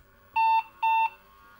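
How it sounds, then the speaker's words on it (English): An IBM 5155 Portable computer sounds two identical steady electronic error beeps in a row, each about a quarter second long with a short gap, clear and alone with no talking. "those two beeps are a possible RAM failure"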